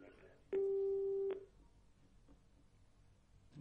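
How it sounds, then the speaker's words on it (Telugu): A telephone busy tone sounds once a caller's line drops on a live TV business call-in show: a loud, steady beeping tone that holds for almost a second, then falls back to a quiet background. "కృష్ణ గారు కాల్ కట్ అయినట్లుగా కనిపిస్తోంది"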